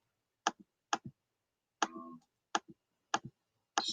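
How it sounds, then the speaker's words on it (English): Sparse keyboard typing heard up close in a quiet room, six short clicky bursts spaced roughly half a second apart, each a quick double tap, with one slightly longer rattle in the middle. "Stop typing a second."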